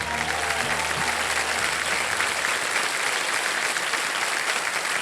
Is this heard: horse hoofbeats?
no